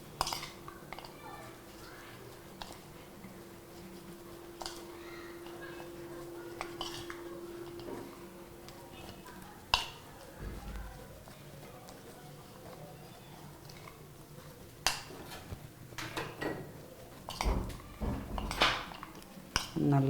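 Snake gourd pieces being tossed with salt, chili powder, spices and curry leaves for a crispy fry, giving soft squishing and patting sounds with occasional clinks of a bowl or utensil, fairly close and steady.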